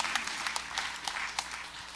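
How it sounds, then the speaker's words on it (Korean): Church congregation at a Sunday service applauding the children, a steady patter of many clapping hands at moderate distance, continuous for two seconds with a faint voice underneath. "아이들 뜨거운 박수로"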